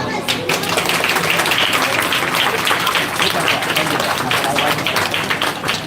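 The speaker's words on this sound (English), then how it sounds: "Clap, clap." An audience at a sixth-standard school tech expo claps in a steady, dense burst of many hands that stays loud and close throughout, with voices mixed in.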